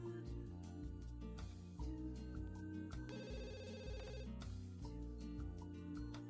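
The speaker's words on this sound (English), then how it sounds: "The phone is ringing." A telephone rings inside The Sims 2, a short electronic ring lasting about a second over steady background game music.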